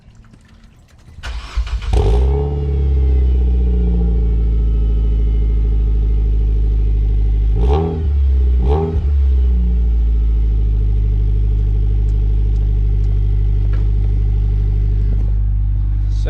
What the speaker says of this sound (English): Let's get a nice little cold start here.